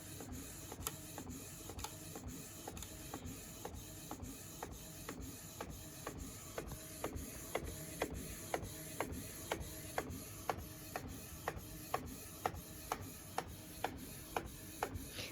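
An inkjet printer prints fabric, its print head carriage shuttling back and forth in a steady series of sharp clicks and whirs with a constant mechanical hum underneath, close and moderately quiet.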